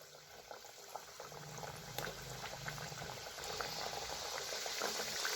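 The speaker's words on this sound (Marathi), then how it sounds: "तेल तापलंय, ह्यात सोडून घेऊया" Wheat biscuits drop into oil heated over a low flame and fry with a soft, continuous bubbling fizz that thickens slightly toward the end, faint and close, with no voices.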